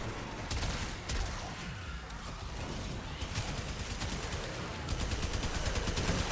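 Rapid automatic gunfire from a Warframe weapon with unlimited ammo fills the passage, a dense continuous stream of shots that grows sharper and more rapid toward the end.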